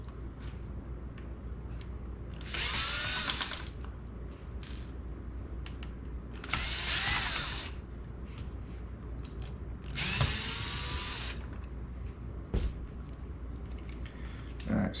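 A power drill drives small screws with a small bit into a Rock Band guitar controller, whirring in three short bursts of a few seconds each, close and fairly loud, with a voice talking between them.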